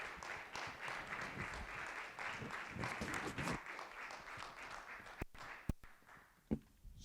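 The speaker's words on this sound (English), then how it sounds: "let's give a round of applause to the Passaic County Constable from Paterson" An audience claps through a municipal council meeting in Paterson, New Jersey, soft, steady applause that thins into a few scattered taps and claps near the end.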